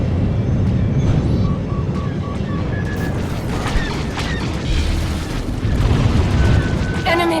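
Video game missile strike: a deep booming explosion with rumbling mechanical noise, loud and continuous throughout, with brief electronic tones and a burst near the end.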